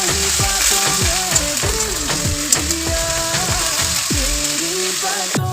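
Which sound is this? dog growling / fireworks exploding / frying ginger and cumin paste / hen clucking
frying ginger and cumin paste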